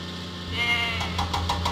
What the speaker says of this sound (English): Salty must deliver the goats to Farmer McCall's farm